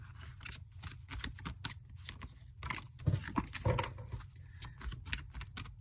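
Rapid papery riffling and soft slaps of tarot cards being shuffled, in bursts with short pauses, close by.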